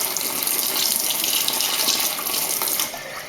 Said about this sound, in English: just give this a wash